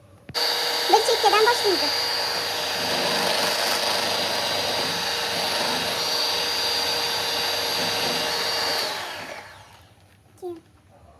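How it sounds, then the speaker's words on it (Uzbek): A handheld electric mixer whirs steadily through cake batter for a loaf cake, a loud continuous drone lasting about nine seconds before switching off, with someone speaking briefly at the start. "sekin mikser qilib olamiz"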